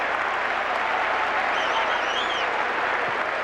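A Fenway Park baseball crowd cheers and applauds during a tense late-inning playoff game, Red Sox against the Athletics, a broad, steady roar of many voices and clapping filling the ballpark.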